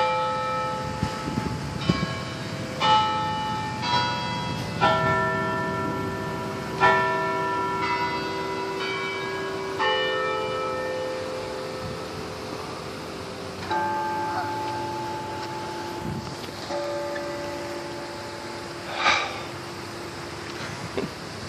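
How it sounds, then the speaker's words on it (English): Church bells ring out over a park during a Sunday walk, with clear sustained tolls struck repeatedly at a moderate distance and outdoor ambience between strikes. "there's the bells."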